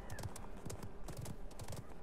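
A horse gallops in the battle royale game Realm Royale, its hooves beating a fast, even clip-clop rhythm throughout, quiet in the mix.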